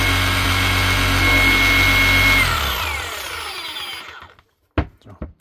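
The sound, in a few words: Hikoki DH40MEY2 hammer running with trigger locked on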